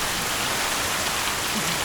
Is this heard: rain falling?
yes